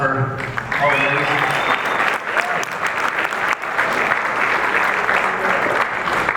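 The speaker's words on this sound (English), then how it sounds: "A round of applause for all the ladies." Guests at a fraternity centennial gala break into sustained, dense applause that fills the room, steady and loud, with a few voices calling out over the clapping.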